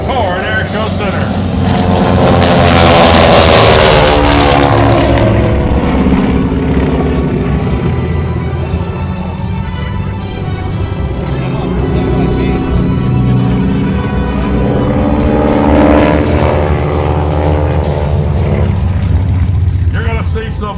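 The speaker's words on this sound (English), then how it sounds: "Some more up close and personal flying here this afternoon for the United States Air Force Thunderbirds." US Air Force Thunderbirds jets at the Waterloo Regional Airport air show roar past in two loud swelling passes, rising and fading against the distance, while an announcer talks over them.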